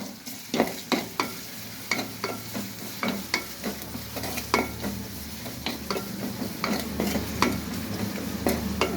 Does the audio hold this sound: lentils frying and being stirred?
yes